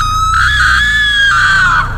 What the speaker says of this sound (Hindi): ग्रामीणों ने रात भर गूंजने वाली भयानक चीखों के बारे में बात की